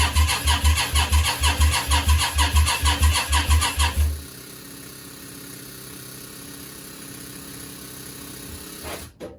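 A Yamaha Virago 535 motorcycle engine cranks with a loud, rhythmic starter churn for about four seconds, then catches briefly or stops into a steady low hum, with a final clunk near the end; no talking.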